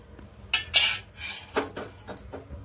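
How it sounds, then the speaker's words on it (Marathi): A metal kadai set down on a stove to heat, with clinking, scraping clatter of cookware in a few short bursts, fairly close and with no talk. "आता इथे कढई आपण तापायला ठेवली"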